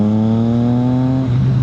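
A car engine holds a steady high rev under load, then briefly drops pitch as the gear is flicked up without the clutch and immediately pulls again at a lower note, loud and close with no talking.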